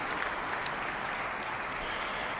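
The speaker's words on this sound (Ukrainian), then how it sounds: "про ядерний шантаж від Владимира Путіна, то майже уся зала почала аплодувати" Dense, sustained applause from a large hall audience at a speech by Vladimir Putin, steady clapping filling the whole stretch with no voices standing out.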